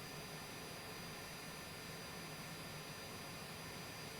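Steady, broadband roar of a jet engine in a flight simulator game, continuous and even throughout with a faint low hum beneath and no talking.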